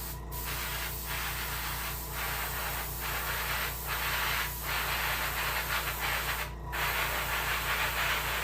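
An airbrush or spray gun hisses steadily while painting a brook trout taxidermy mount, a continuous close spray with a few brief louder bursts and a low mechanical hum underneath; no one speaks.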